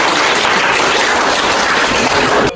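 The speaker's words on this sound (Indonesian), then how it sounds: "Baik, tepuk tangan." Group applause in a classroom at the close of a student presentation, a dense steady patter of many hands clapping at once that holds evenly for a couple of seconds before stopping abruptly.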